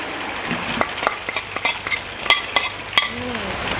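Crab fried rice being stir-fried in a pan, a continuous sizzle broken by repeated sharp scrapes and clinks of a spatula against the metal.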